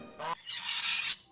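A knife drawn across a whetstone, two close, loud rasping strokes, the second long and bright, with no voices.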